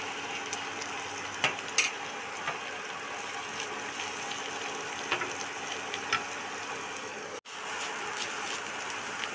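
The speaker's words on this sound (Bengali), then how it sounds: "ঘিয়ের সাথে গ্রেটেড বিটটা নাড়াচাড়া করে নিল।" Grated beetroot sizzles steadily in hot ghee for a beetroot halwa, with a few sharp scrapes and clicks of stirring against the pan over a continuous close frying hiss.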